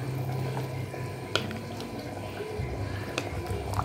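Water boiling with seeraga samba rice for mutton biryani, a soft continuous bubbling simmer with occasional small pops and clicks close by.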